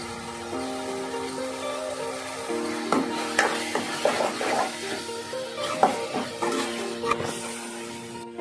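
A puffed rice (mandakki) mixture being stirred in a pan with turmeric powder: a run of soft, irregular scraping and rustling strokes, close by and fairly quiet, over a steady tonal hum.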